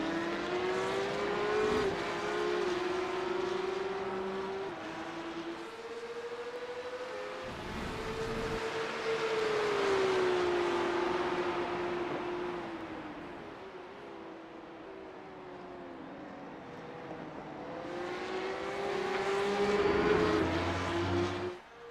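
Porsche Cup race cars scream around Daytona in a racing video game, engines rising and falling through gear changes in a steady loud drone that swells as the pack passes, with no talking.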